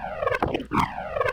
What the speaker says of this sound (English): That sounds like the rocket ship.